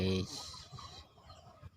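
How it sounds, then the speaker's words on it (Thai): Chickens at a morning feeding on a mixed farm give a brief loud cluck or crow at the start, followed by softer scattered clucking and faint voices nearby. "วันนี้เราก็มาเลี้ยงไก่ยามเช้า"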